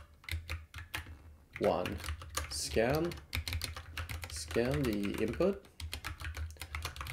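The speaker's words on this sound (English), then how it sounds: "Still getting used to this keyboard." Rapid clicking keystrokes on an unfamiliar computer keyboard rattle on steadily and close up, continuing under a man's explanatory speech.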